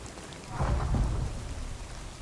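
Thunderstorm with rain in The Cycle: Frontier, a steady hiss of rainfall under a deep rumble of thunder that swells and rolls near the middle, with no voices.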